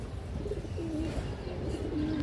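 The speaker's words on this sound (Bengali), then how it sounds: "এই দেখেন বড় সাইজের একটা বাঘা মাদি কবুতর" A large female Bagha pigeon of an old breeding line coos in steady, low, rounded calls close by, with soft chirps mixed in and no talk over it.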